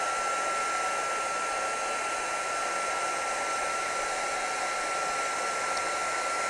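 A heat tool blows steadily and close up, melting embossing powder on a stenciled craft project, one even airy roar with a faint high whine that holds unchanged throughout.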